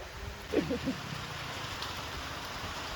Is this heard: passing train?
no